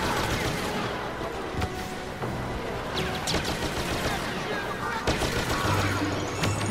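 Battle din from Star Wars Battlefront's Impact Zone multiplayer, with a bomb blast amid steady gunfire and crashes, dense and continuous, with a sharp burst near the end.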